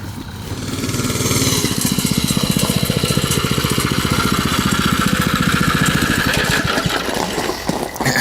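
A supercharged four-cylinder engine on a motorized wheelbarrow drives steadily: a loud, close, rapidly pulsing mid-pitched drone with a rough buzzing edge that holds throughout and roughens near the end, with no voices.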